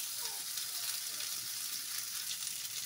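Fresh mint leaves frying in a pan for a mint bhorta, a soft continuous hiss and crackle at low level with faint stirring, no talking.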